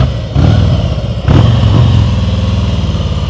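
Motorcycle engine idling and pulsing at low revs during slow-speed riding practice, with two brief rises in throttle near the start, steady and close throughout.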